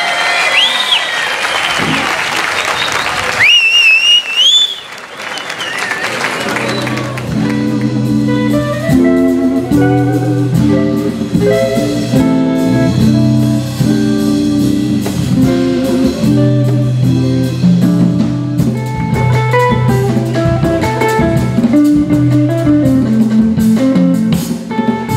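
At a jazz festival in Cabarete, a short burst of crowd applause and cheering greets the performers, then gives way to loud live band music with steady bass and rhythmic instruments that fills the rest.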